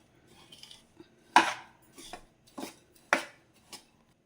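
Rava stirred and roasted in a pan on low heat for instant rava idli, heard as a series of sharp metallic spoon scrapes and knocks against the pan, several distinct strikes spaced irregularly, close and fairly quiet.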